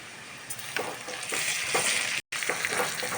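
Fenugreek leaves fry in a pan of browned onions with a constant close sizzle, broken by a few scraping stirs and one brief cut to silence.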